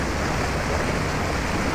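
Steady, loud broadband rush of water at Talon Pedro waterfall on the DRT trail, continuous and unbroken throughout with no voices.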